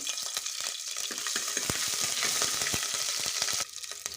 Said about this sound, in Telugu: అందులోనే ఒక మూడు టీ స్పూన్ల ఆయిల్ అయితే వేసేయండి ఇక్కడైతే ఫ్రెష్గా దంచిన ఒక టీ స్పూన్ అల్లం పేస్ట్ అయితే వేసేయండి